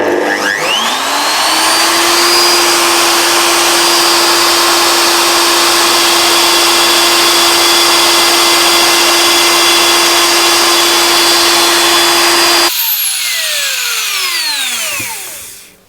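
A plunge router on a WoodRat jig whines at steady high speed while cutting a blind dovetail rebate in wood, loud and close, then spins down toward the end.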